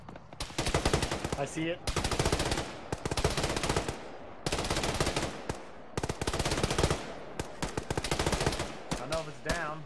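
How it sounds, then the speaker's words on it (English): A heavy machine gun fires in the military shooter Arma, loud and close in long rapid bursts broken by short pauses, while a voice speaks briefly over the shooting. "Roger, got a heavy machine gun."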